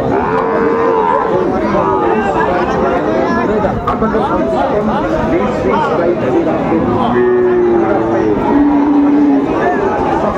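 Sahiwal bull calves and cattle at a Jamalpur livestock market moo repeatedly in long, drawn-out calls, set against steady crowd chatter and people talking nearby.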